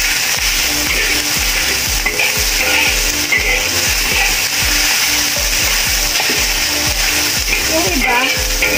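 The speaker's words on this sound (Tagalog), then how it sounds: "Niluluto kong rice ko guys." Rice fries in a pan for fried rice, giving a loud, close, continuous sizzle with rhythmic scraping and stirring taps of a utensil. Faint talk sits underneath.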